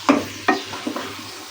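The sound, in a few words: stirring and frying aloo gosht in a pan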